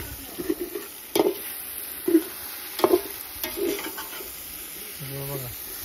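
Oil sizzles in a pan with tomatoes during outdoor cooking, a steady high hiss running beneath intermittent talking voices.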